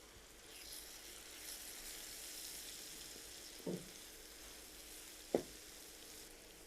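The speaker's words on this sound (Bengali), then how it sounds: "আদা রসুনের পেস্ট একটু ভেজে নিলাম" Ginger garlic paste sizzles steadily in a hot pan, a soft continuous crackle broken by two brief scraping knocks of stirring.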